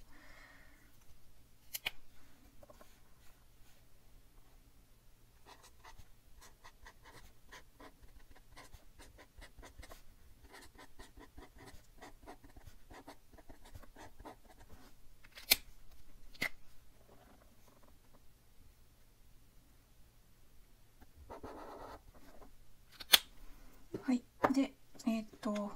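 A marker pen scratches across the paper of a Maruman spiral notebook in quiet, intermittent strokes, close and faint, with sharper taps and scrapes clustering near the end.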